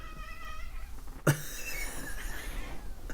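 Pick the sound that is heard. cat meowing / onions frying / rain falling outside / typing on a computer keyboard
cat meowing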